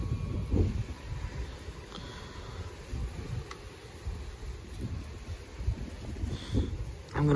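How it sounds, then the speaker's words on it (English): Strong wind from a dry cold front rushing steadily and loudly past the microphone in broad gusty waves, with continuous buffeting roar and a few brief surges. "I'm gonna wait till the wind ends. It is just rushing through right now."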